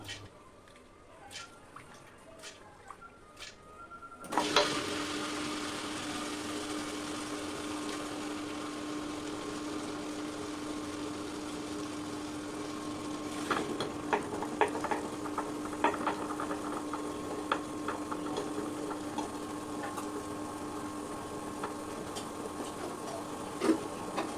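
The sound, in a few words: wet grinder grinding soaked urad dal for idli batter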